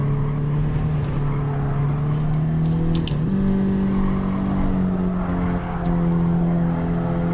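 A Honda Civic Type R FK2 turbocharged hot hatch drones loudly around the Suzuka circuit, its engine holding a steady note that shifts pitch briefly mid-run before settling again, heard from inside the car.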